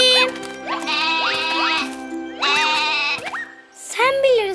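A cartoon goat lets out wavering, nasal bleats in two long stretches, then a shorter cry, loud and up close in a children's animated show.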